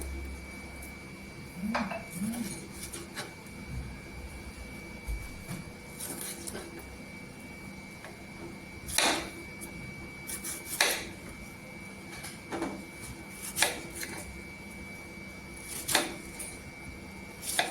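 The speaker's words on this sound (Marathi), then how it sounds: "असं दोन भाग केल्यानंतर हे पीसेस करायचं एवढं आता आपण हे तिन्ही पण टमाटर आहेत ते कट करायचं" Tomatoes are cut into pieces with a knife on a board, producing sparse, separate chopping knocks against a quiet kitchen background with faint clinks.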